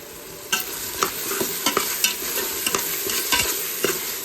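Tomatoes fry in a pan for mutton biryani, a steady sizzle broken by frequent rhythmic scrapes and knocks of a stirring spoon, close up and with no speech.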